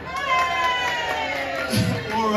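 An audience at a cabaret magic show breaks into cheering and shouting, a loud sustained crowd roar with bright whoops and a fresh swell near the end.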